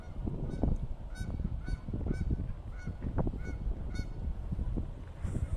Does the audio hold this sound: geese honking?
yes